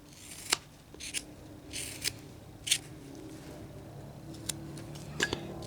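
Knife cuts into a wooden figure for a jail scene, trimming back the body: sharp, separate snicks and scrapes at an irregular pace, close and fairly quiet against a soft background hum.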